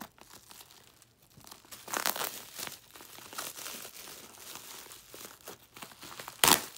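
Packaging crinkles and tears as a box holding a silicone reborn baby doll is opened, with soft rustling and crumpling interrupted by a few louder crunchy bursts and one sharp rip near the end.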